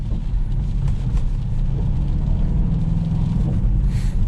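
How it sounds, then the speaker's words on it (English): Diesel engine of a Mercedes C220 CDI BlueEfficiency heard from inside the cabin while driving, a steady low rumble with a gritty drone that holds even throughout, without talk. "It's a little bit of a noisy diesel engine."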